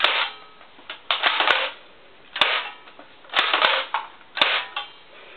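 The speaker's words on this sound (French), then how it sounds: "le FAMAS est à spring, se recharge comme ça, par le haut, et quand on tire ça fait" A spring-powered FAMAS airsoft rifle fires several sharp, close snapping shots, each with a brief mechanical rattle, spaced roughly a second apart with a few quicker pairs.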